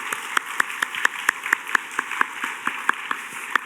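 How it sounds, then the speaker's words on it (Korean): A church youth congregation applauding during a service: a run of evenly spaced, distinct claps at a moderate pace, fairly faint and thin, with no talking over it. "먼저 우리의 선교를 기뻐 받으실 하나님께 우리 영광의 박수 올려드리겠습니다."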